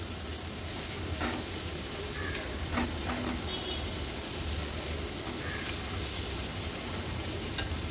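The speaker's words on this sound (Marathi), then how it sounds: "टोमॅटो पण व्यवस्थित मिक्स करून घेते।" Chopped tomatoes fry in a pan for an Agri-Koli style squid kheema, a dense, constant sizzle up close with intermittent scraping taps of a spatula mixing them in.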